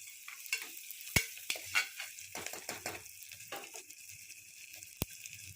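Onions, green chillies and spices frying in a pan for mutton curry, with soft sizzling and a few stirring scrapes and clinks, fairly close and moderately quiet, no talk.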